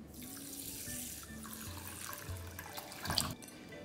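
Gobindobhog rice is rinsed under a running kitchen tap, with a steady stream of water splashing into the grains and a brief louder swirl near the end.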